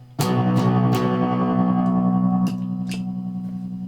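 A strummed three-string cigar box guitar through a distortion effect with a heavily distorted, sustained tone, several sharp strums near the start ringing out with a buzzy, saturated drone.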